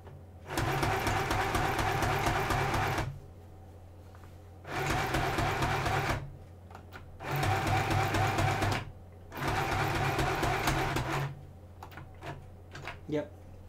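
A sewing machine stitches through a Halloween costume hem in four long bursts of steady whirring, each a few seconds long, with short quiet pauses and faint handling clicks between runs.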